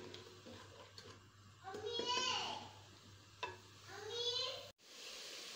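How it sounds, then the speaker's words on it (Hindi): Masala with tomatoes and green chilies frying in a pan for a mung dal dish, a faint sizzle with soft stirring, heard under bright, chirpy voices that come and go. "इसको अब अच्छे से मसाले को भुनेंगे।"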